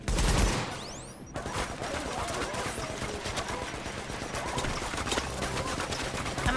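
Sustained automatic gunfire aimed at a turret in the video game The Division, with a loud opening crack followed by steady, dense bursts of shots, close and continuous throughout, with voices under the shooting.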